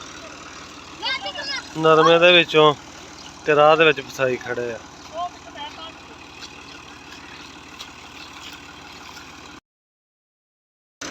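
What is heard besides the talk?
tractor engine running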